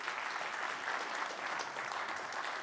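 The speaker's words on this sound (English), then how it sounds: "give her a warm round of applause." Audience applause at the De Gouden Noot 2024 packaging innovation award ceremony: a steady, even wash of clapping from a crowd, sustained throughout with no talk over it.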